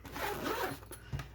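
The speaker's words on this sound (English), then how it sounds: "zip it back up" The zipper on a Hot Logic Mini lunch bag is pulled shut in one smooth, close, raspy sweep lasting about a second, ending with a small thump.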